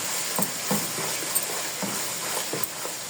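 Masala for beef nihari frying and being stirred in a pot: a steady sizzling hiss with soft periodic scrapes of the spoon, close and continuous, no voice.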